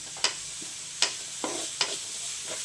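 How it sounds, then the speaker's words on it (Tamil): Two large onions sautéing in a pan, a steady close sizzle with four or five sharp scraping stirs spaced about half a second apart, with no talking. "பெரிய வெங்காயம் 2 பெரிய வெங்காயம் சேர்த்துருக்குறேன். இன்னும் சேர்த்து வதக்கிக்கலாம்."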